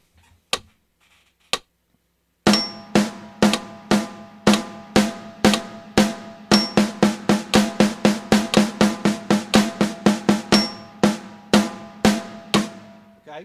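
A snare drum plays a steady paradiddle sticking pattern that starts in eighth notes at a moderate pulse and then doubles to sixteenth notes, with crisp, evenly spaced close hits.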